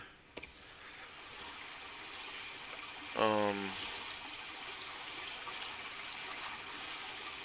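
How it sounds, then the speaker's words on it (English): Steady broadband rush of flowing stream water in the video game Sons of the Forest fills the background throughout, with a short tonal burst partway through and a brief mumbled voice early on. "the water and all that jazz is pretty cool in this game"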